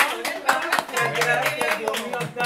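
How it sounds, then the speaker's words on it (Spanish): Hands clap in uneven bursts at an outdoor gathering with a town mayor celebrating Cristian receiving his quad bike, a handful of people applauding close by while voices talk over the clapping. "Un aplauso fuerte para Cristian, que tiene ya su cuatrimoto."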